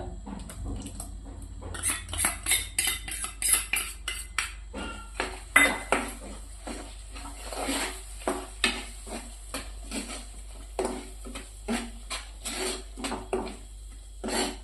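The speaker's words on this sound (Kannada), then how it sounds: "ಇದೇನು ಟೊಮೆಟೊ ಹಸಿ ವಾಸನೆ ಹೋಗೋ ಥರ ಹುರಿಬೇಕಂತ ಹೇಳ್ರಿ" Ground tomato paste being fried and stirred for a restaurant-style egg masala, with a metal spatula scraping and knocking against the pan in steady repeated strokes over a faint sizzle, close and without talk.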